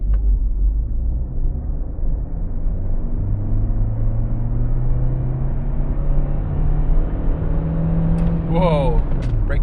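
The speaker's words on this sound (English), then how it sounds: "Flooring the accelerator and releasing the brake." A Dacia Jogger Hybrid 155 accelerating at full throttle from standstill at night, heard from inside: a steady, loud cabin drone with an engine tone rising slowly in pitch throughout, ending with a brief chirping electronic sound.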